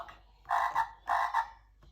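A frog croaks twice in two separate bursts, each a raspy double-pulsed call, fairly close and clear with short silences between.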